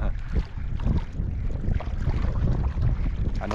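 Steady wind roars across an open microphone at sea, with a low rumbling buffet and the wash of water beneath it.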